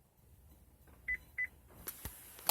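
A Chevy keyless entry system gives two short, clear electronic beeps during remote fob programming, followed by faint clicks and handling noise in a quiet car interior.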